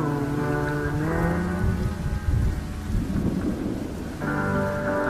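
Rain and thunderstorm mixed under late-night radio music: steady rain hiss with a deep thunder rumble swelling in the middle while tonal music plays throughout.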